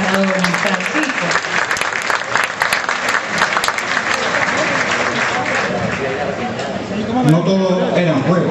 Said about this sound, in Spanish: Un aplauso, por favor, para don Francisco.